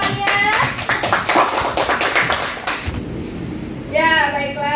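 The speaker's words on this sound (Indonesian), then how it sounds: "Ya, kita berikan aplaus untuk temannya." A class of students applauding classmates: a brief burst of many hands clapping, close and lively, with children's voices and a teacher talking over and after it.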